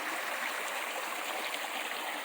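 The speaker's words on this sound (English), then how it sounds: "A little waterfall action." A small waterfall beside a hiking trail on the Appalachian Trail, a steady broadband rush of falling water, close and continuous with no voices.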